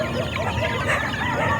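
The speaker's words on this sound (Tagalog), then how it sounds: "Enjoy sa paglalaro ang mga sisiw natin." Month-old gamefowl chicks cluck and cheep in a continuous busy chatter, close by, with a faint voice in the background.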